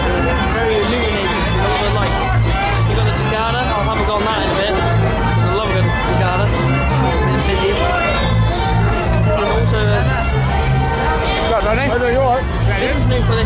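Dense crowd babble fills the Stamford Mid Lent Fair, steady and loud, mixed with fairground ride music and rhythmic pulses throughout.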